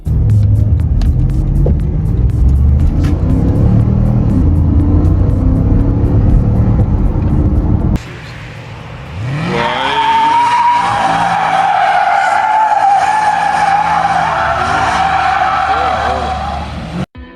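A 2017 Porsche Panamera Turbo with a 4-liter twin-turbo V8, driving in a Need for Speed racing game: an engine roars under music, then tires squeal in a long loud skid.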